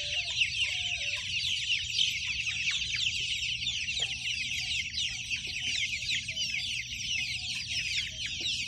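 Cornish cross meat chickens and red star hens cluck steadily in a grassy coop, a dense, continuous chorus of close bird calls with no talking.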